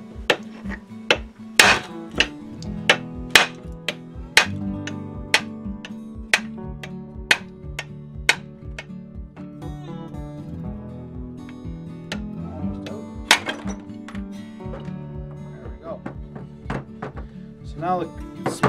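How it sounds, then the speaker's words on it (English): A brass hammer strikes the crankshaft of a Husqvarna 266 chainsaw to split the crankcase in half, giving a long series of sharp metallic knocks, some single and some in quick pairs, close and loud with a low mechanical rumble underneath. "You'll need to strike on the shaft with a reasonable amount of vigor."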